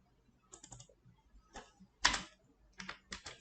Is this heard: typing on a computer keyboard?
yes